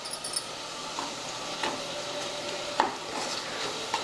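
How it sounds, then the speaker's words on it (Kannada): A tempering of spices fries in a pan while being stirred for a fresh field bean (hasi kadalekalu) curry, soft sizzling under scattered scraping clicks of a spoon against the pan, fairly quiet and with no talk. "ಇದು ಒಗ್ಗರಣೆ ಫ್ರೈ ಆಗಲ್ರಿ."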